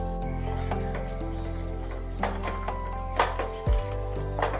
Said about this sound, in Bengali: ভালোভাবে ধনে পাতা দিয়েও একটু নাড়াচাড়া করিয়ে নিতে হবে 1-2 মিনিট মতো